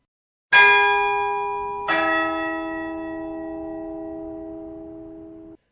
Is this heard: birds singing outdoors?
no